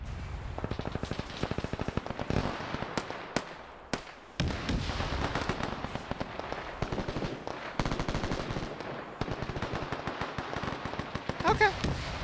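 Rapid gunfire from Japanese defense crews on Tarawa in Arma 3, fast bursts of machine-gun and rifle shots crackling continuously at close to middle distance, with a few brief lulls and a voice talking underneath.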